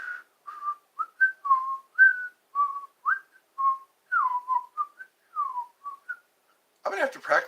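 A person whistles a short tune of clear, separate notes, close and fairly loud, with brief gaps between phrases; talking begins right after the tune ends.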